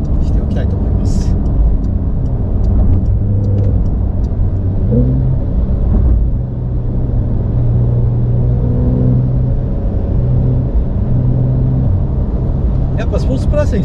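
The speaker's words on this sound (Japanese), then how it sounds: "やっぱスポーツプラスにすると基本的に回転結構高めで維持してくれるので音は聞こえやすくなりますし" Porsche 911 Carrera engine held at high revs in Sport Plus mode while driving, a steady loud drone with shifting pitch and a short lift off the throttle midway, with someone talking over it throughout.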